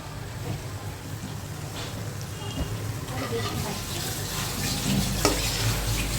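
Mashed taki fish with chopped coriander fries in a generous amount of oil while being stirred, a continuous close sizzle with scraping strokes of the spatula throughout.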